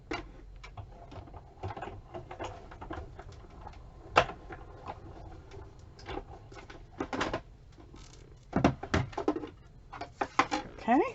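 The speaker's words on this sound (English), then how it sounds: "let me die cut this. I'm going to just turn around and do it on the big machine" A large die-cutting machine cutting a paper die for handmade pocket cards: a series of close, rhythmic mechanical clicks and clacks, getting louder and busier toward the end.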